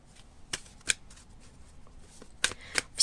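Metaphorical associative cards drawn one by one from a deck, giving a few sharp, quiet card snaps and shuffles spread across a near-silent room, with no talk.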